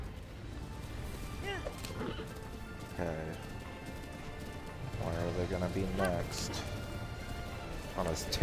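Hooves clip-clop from a horse in the video game Breath of the Wild, with a whinny, under a man's speech and game music.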